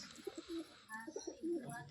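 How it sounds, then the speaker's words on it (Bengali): Pigeons cooing inside a loft housing around fifty birds, several soft low coos repeating in short rhythmic bursts close by, with faint background noise. "দেখো কমসে কম 50 পিস পায়রা আছে।"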